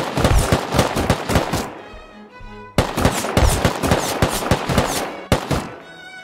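Auto turrets in Rust fire in loud, rapid bursts of closely spaced shots, two long volleys separated by a brief pause with ringing decay, close and dominant with no talking.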